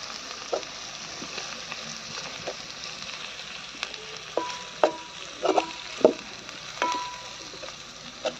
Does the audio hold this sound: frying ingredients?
yes